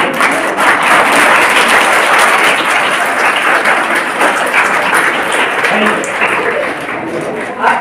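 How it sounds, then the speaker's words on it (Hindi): Seminar audience at a motivational talk in Chhatarpur claps steadily and loudly, a dense sustained applause that holds for the whole stretch with only a slight fade near the end. "ताली बजाने से 52 प्रकार की बीमारियां दूर होती हैं"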